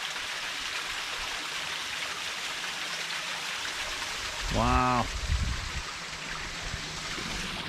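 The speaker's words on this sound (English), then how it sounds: "The waterfall." Steady rushing water from a waterfall in the Forest Cathedral area of a video game, a continuous broadband hiss throughout, with a voice briefly exclaiming over it midway.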